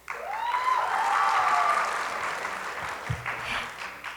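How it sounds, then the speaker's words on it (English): A graduation crowd at Higher Ground Academy applauds for classmates, a sustained wash of clapping and cheering with a voice briefly rising over it before it tapers off. "A round of applause to our friends and fellow classmates"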